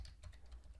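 Computer keyboard keys are tapped in a quick burst of several soft, close clicks while code is typed, with no talking.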